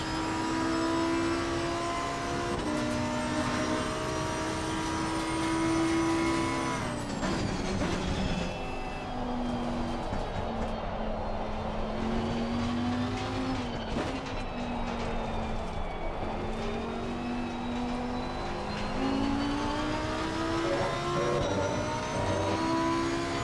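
A Lamborghini Huracan GT3 Evo 2 race car engine in a racing video game at Silverstone screams steadily, its pitch climbing and dropping with gear shifts and throttle changes, loud and continuous with no talking.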